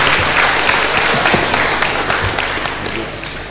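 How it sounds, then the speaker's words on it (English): Thunderous audience applause for the panelists at an international university symposium: dense, sustained clapping fills the hall at steady loudness throughout, with individual claps popping out over the wash. "let us give a round of thunderous applause to them,"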